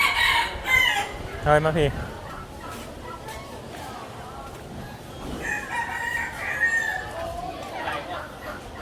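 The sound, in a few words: rooster crowing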